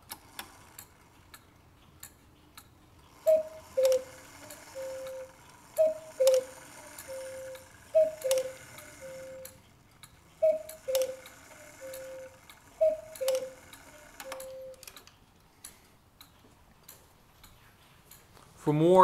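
A Beha cuckoo clock with echo sounds its paired two-note calls, each followed by a softer repeat, over faint ticking and clicks of the mechanism, heard up close.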